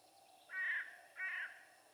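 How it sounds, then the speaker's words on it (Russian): Crows cawing from bushes outdoors in spring during a river flood, two clear harsh caws about half a second apart, moderately distant, with no talk. "Там в кустах вороны так орут,"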